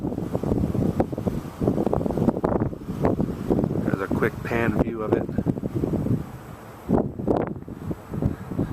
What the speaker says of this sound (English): It's windy today. About a 25 to 35 mile an hour crosswind